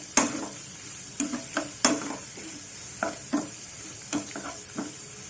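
Tomatoes with ginger and green chillies frying in a pan, a steady low sizzle broken by a series of sharp scraping clacks as a spoon stirs the mixture, close and clear, no talking.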